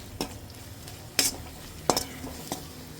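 Garam masala, coriander powder and biryani masala being stirred in a pan for creamy chicken malai biryani, with a few sharp scrapes and clinks of the spoon over a soft, steady sizzle.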